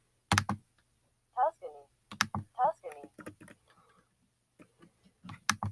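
A computer keyboard is typed on in short, sparse bursts of crisp clicks, close and fairly quiet, with a brief voice murmuring between them.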